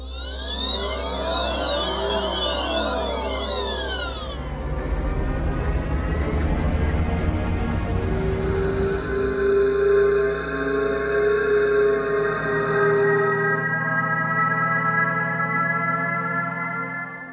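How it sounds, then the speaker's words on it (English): A series of electric car acoustic pedestrian alert sounds, synthetic tones that change from one sample to the next: a warbling, sweeping whine, then layered steady hums and rising, sustained electronic tones, with no speech. "Are you familiar with the acoustic alert for pedestrians?"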